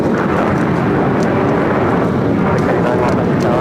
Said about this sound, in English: let me get this next takeoff